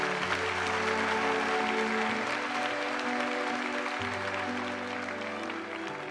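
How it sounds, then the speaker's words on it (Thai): A studio audience at a televised Thai singing competition applauds a man in a steady, dense wash of clapping, with a sustained musical tone running underneath. "ขอเสียงปรบมือชื่นชมผู้ชายคนนี้หน่อย"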